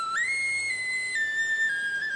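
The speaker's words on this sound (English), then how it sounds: "Who wants to buy funny whistles carved from wood?" A toy whistle carved from wood in a cartoon, blowing one sustained pure tone that steps slightly in pitch over about two seconds, clear and close with no other sounds.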